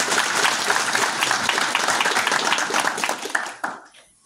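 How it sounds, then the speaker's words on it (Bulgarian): A crowd applauds at a political party gathering in Bulgaria's Burgas region, dense steady clapping filling the room before fading out abruptly near the end. "Искам аплодисменти за тях."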